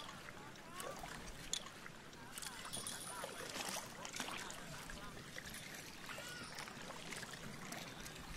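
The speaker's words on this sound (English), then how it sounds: "The sounds of the water are always relaxing" Soft, steady flow of water at a dam on a lake in Thailand, with gentle trickling and splashing, quiet and continuous, with faint ambient noise behind it.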